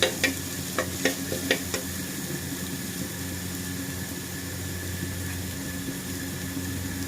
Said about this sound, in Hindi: देखिए, प्याज मेरा भुज रहा है, थोड़ा सा और बचा हुआ है। थोड़ा सा इसे और गोल्डन करेंगे।